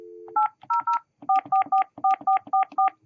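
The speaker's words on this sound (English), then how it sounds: "press the phone number" DTMF keypad tones from a Yealink T41P desk phone as a number is dialed: a short dial tone, then about ten quick two-tone beeps in an irregular rhythm, close and clear with no talk.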